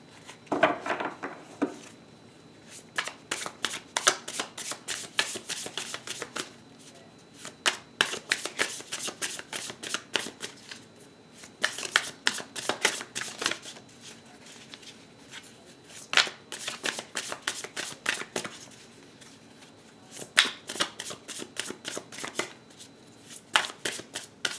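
A deck of tarot cards is riffled and shuffled again and again, giving bursts of crisp rapid flicking with short pauses between, close and fairly quiet.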